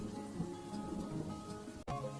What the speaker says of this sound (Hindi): बाहर बारिश हो रही है, फिर भी ग्राहकों की भीड़ लगी है